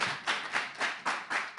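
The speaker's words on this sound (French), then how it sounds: "On applaudit M." Five or six evenly spaced, slightly hollow hand claps from an audience cheering a participant at a cultural reading event, each a short sharp burst with a brief decay and a steady rhythm.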